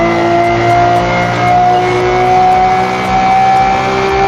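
A race car screaming along in the Forza Motorsport racing game, loud continuous engine whine with pitch rising and falling through gear changes as it downshifts into a hairpin.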